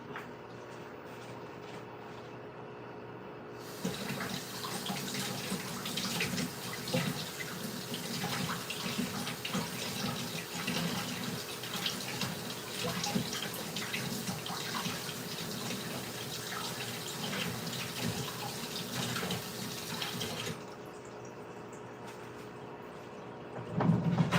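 Tap water runs steadily over a lobster tail being rinsed in a kitchen sink, a continuous close splashing stream that starts abruptly and stops after about seventeen seconds.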